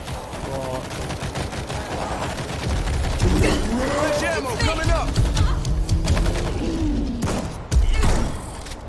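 Rapid automatic gunfire from the World War Z video game, with bursts of machine-gun fire and dense fusillades rattling almost continuously. Mechanical clanks and thuds mix in, and a voice shouts over the shooting partway through.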